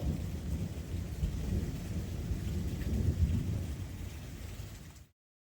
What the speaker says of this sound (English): I'm gonna need to add some variation to this Thunder at some point.